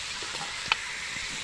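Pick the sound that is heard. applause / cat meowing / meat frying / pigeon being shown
meat frying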